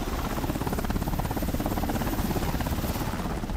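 A strike group helicopter lands during typhoon relief in the Philippines, its rotor producing a loud, continuous pulsing thump and whine that stays steady and close with no talking.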